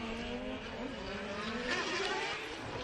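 A rotary-engined Mazda MX-5 drift car at a Formula Drift qualifying run in Texas revs high and sustained, a dense buzzing engine note with faint tire noise, heard from trackside at a distance.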